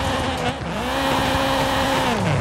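A pickup truck in Forza Horizon 5 drives uphill, its engine droning loud and close as the pitch climbs steadily, then dips and rises again under heavy load.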